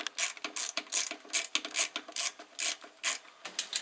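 A hand ratchet clicks in quick repeated bursts while undoing 13 mm bolts on the clutch cylinder of a Porsche 944, a steady run of close, crisp ratcheting strokes with brief pauses between them.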